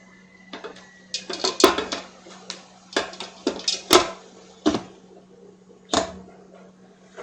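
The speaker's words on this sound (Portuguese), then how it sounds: "eu vou deixar a panela tampada" A cooking pot of water being heated gets its lid set on, producing a series of sharp metallic clanks and clacks in irregular bursts over a low steady hum.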